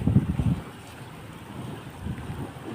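Strong wind gusts buffet the microphone in stormy weather in Saudi Arabia, with a loud rough burst at the start and then an uneven whooshing roar that rises and falls.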